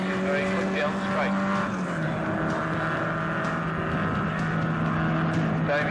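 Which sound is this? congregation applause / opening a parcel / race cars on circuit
race cars on circuit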